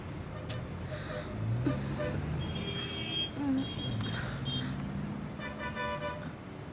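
Busy city traffic with car horns tooting several times in short blasts, moderately loud and fairly near, over a steady rumble of road noise.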